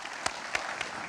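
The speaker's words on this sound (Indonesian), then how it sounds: "untuk itu kita kasih aplaus bersama-sama" Audience applause at the end of a public lecture on investment in Indonesia: a brief burst of scattered, separate claps heard from a moderate distance.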